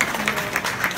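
Applause from an audience at an evening event in Vietnam, a short burst of dense, steady clapping that sounds close and fills the whole moment.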